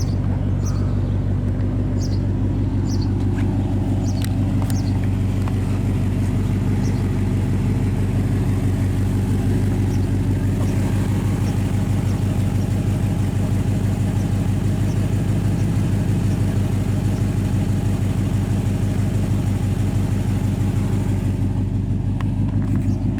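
A 1952 Chevrolet Bel Air's exhaust burbles in a low, steady growl at idle, close and continuous throughout.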